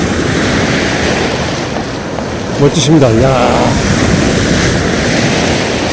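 Ocean waves breaking against a breakwater at Geojin beach on the East Sea in Goseong, heard as a steady, loud wash of surf mixed with wind noise, while people talk and exclaim over it.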